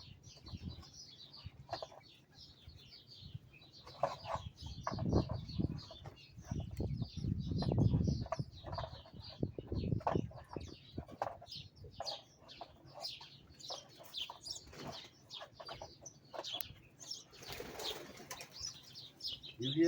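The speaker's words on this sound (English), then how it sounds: "You hear the birds, right?" Birds flock around a greenhouse, their wings flapping and their clucking, cooing calls coming in scattered bursts at close range, with louder rustling thumps in the middle.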